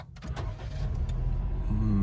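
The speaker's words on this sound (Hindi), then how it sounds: "auto retractable mirrors" Auto-retractable side mirrors on a 2018 Daihatsu Mira G package fold with a brief electric motor whir, close and clear, over the low hum of the idling car.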